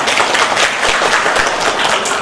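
An audience at a National Mental Health Week event at Srithanya Hospital gives a speaker a round of applause, a loud continuous patter of clapping filling the whole moment.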